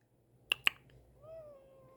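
Two sharp clicks followed by a single drawn-out cat meow, fairly quiet and close, with no talking.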